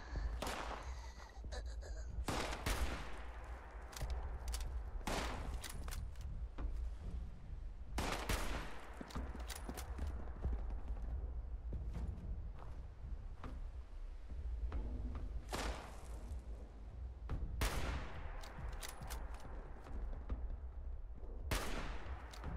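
Gunfire in the video game Fallout 76 sounds as sharp single shots and short bursts spaced through a low, steady background rumble, fairly faint overall.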